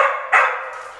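A dog lets out a quick pair of close, loud barks that run together into a slightly drawn-out yelp, with nothing else heard.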